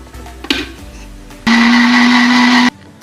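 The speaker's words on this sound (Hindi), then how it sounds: "अब हम मिल्क को और शुगर को दोनों को ब्लेंड कर लेंगे।" Blender mixing milk and sugar for a sponge cake, switching on abruptly with a loud, steady motor whine that runs for over a second before cutting off, preceded by kitchen clatter.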